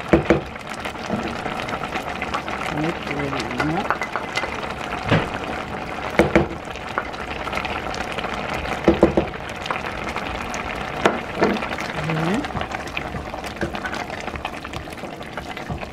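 Onions simmer in a cooking pot of fermented cassava leaf stew, giving a continuous bubbling, watery gurgle with occasional sharper pops and clinks over sixteen seconds, moderately close and with no voices.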